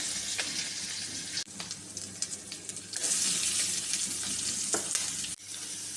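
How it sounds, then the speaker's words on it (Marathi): Hot oil in a pan sizzles loudly as ginger-garlic paste, cumin, mustard seeds and curry leaves go in for tempering, a close, steady crackling hiss broken by a few spoon clinks and one brief pause. "तेल गरम झालेलं आहे आणि आता आपण फोडणीसाठी आलं लसूण पेस्ट टाकणार आहोत"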